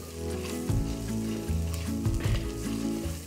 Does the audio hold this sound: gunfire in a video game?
no